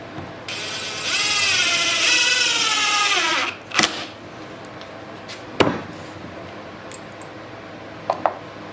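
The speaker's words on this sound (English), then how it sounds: "Now I put 2 more screws in and we're almost done." A power drill drives screws while a wooden mobile base is built, whirring loudly for about three seconds as the pitch drops while the screw seats. Sharp knocks and clicks follow, then a second brief drive and a few light taps nearby.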